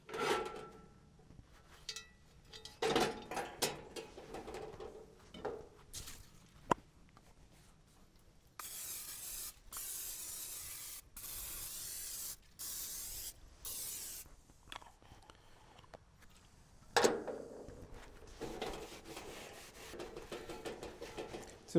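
Oil being rubbed onto the outside of a cast-iron Dutch oven, soft intermittent rubbing and scuffing strokes up close, quiet overall with a few sharper knocks and a louder hissing stretch midway.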